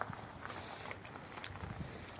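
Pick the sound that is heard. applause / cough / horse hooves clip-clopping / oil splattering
horse hooves clip-clopping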